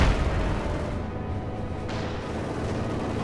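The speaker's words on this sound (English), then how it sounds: "Shock troops trying to make it through there, but the MG42 rather puts a stop to that." Sustained machine-gun fire from an MG42 in the strategy game Company of Heroes 2, heard as a dense, continuous roar of rapid shots mixed with battle noise. It stays loud and steady throughout, with no talk.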